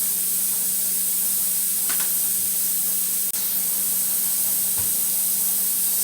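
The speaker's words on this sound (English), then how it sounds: "Steam has now been escaping from the steam vent for 10 minutes." Steady broadband hiss of steam venting from a pressure canner's open steam vent while beef stew is canned, continuous and even throughout with a faint click partway through.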